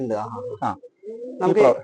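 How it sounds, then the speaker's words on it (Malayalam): A pigeon in a pigeon loft in Palakkad, Kerala, coos nearby in soft, throaty bursts, a short phrase, a pause, then a fuller rolling coo. "ഈ പ്രാവ് എന്റെ ഇവിടുത്തെ പഴയ പ്രാവാണ്."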